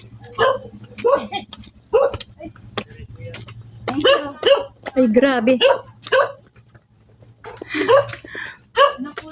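Several dogs bark in uneven bursts along a shortcut road in Sapangbato, Angeles City, with yips mixed in, while people talk and exclaim over them nearby.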